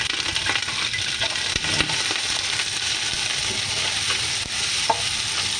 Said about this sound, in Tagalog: susutay natin yung bawang oh